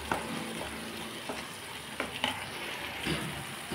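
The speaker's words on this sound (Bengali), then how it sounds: "এখন আমি ভালো করে কষিয়ে নেব মশলাটাকে আলুর সাথে।" Spices, potatoes and peas sautéing in a pan, a continuous close sizzle broken by scraping stirs and light clicks of the spatula, with no talk.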